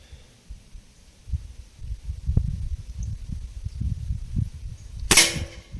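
An air rifle fires a heavy X Magnum pellet, giving a single sharp, loud crack near the end that follows a few seconds of quiet low rumbling and handling noise.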